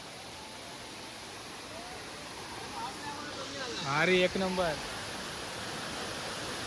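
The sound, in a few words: Savatkada waterfall, Rajapur, Konkan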